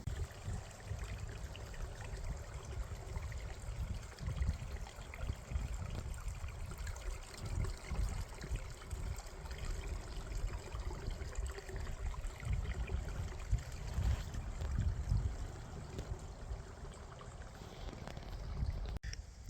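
A river in Sarasota, Florida, flowing steadily, a continuous low rushing wash of moving water that stays even and moderately quiet throughout.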